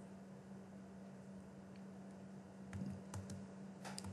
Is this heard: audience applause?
no